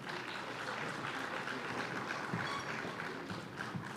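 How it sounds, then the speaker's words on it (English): Audience applause at a live-streamed event, a steady dense wash of clapping hands that holds at an even level for the whole stretch with no voices over it. "Let's please give them another round of applause."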